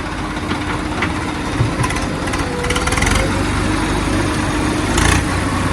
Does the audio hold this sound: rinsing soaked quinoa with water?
no